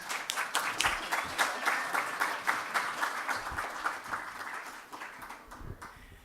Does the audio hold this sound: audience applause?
yes